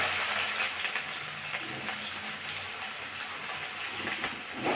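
Sliced onions sizzle in hot oil in a pan while a prawn, potato and pointed gourd curry is cooked, giving a steady, close broadband hiss with small crackles.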